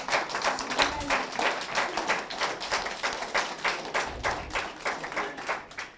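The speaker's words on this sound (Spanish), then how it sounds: "Dale un aplauso para que disimules." A church congregation claps in a steady, rhythmic beat during a sermon, each clap distinct and evenly spaced, moderately loud and close, without talk over it.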